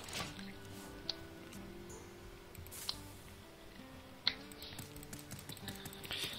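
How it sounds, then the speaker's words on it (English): Rapid, quiet computer mouse clicking during a Hearthstone game, a soft scattered ticking like keyboard typing with a few sharper clicks, close and faint. "Very furious clicking. It's just like you're typing."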